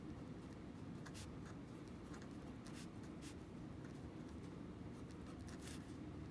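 Pen or marker scratching steadily while writing out a math problem vertically, with short bright strokes over a constant low background hum, no talk.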